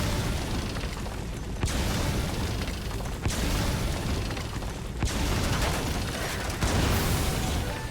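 Grenade blasts in Metal Gear Solid V, four heavy booms spaced roughly a second and a half apart, each a broad burst that fades into a dense, rumbling wash of continuous noise.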